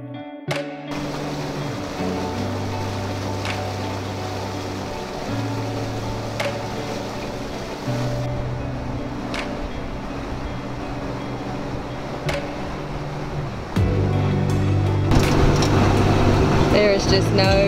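A sailboat motors under engine power across a windless, calm sea off Playa Blanca, its engine giving a steady, continuous drone throughout that swells slightly louder near the end.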